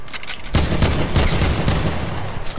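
Video game gunfire: a rapid, loud string of close shots in quick succession after a brief lead-in, continuing steadily with booming echoes through the short burst.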